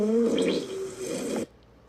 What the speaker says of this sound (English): That's literally that's a shit your pants sound